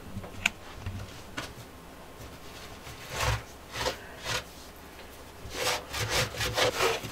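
A grout haze is rubbed off freshly grouted shower tiles in a series of short, scratchy rubbing strokes, quiet at first and then coming in quicker repeated swipes, with no talking.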